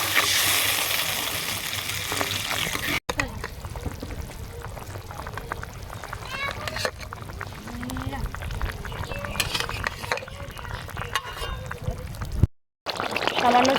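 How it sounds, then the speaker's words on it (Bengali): Water pours and bubbles into a pan of simmering rui fish curry as a steady, close liquid rush, with a brief drop-out near the end. "এবারে জল দিয়ে দেবো।"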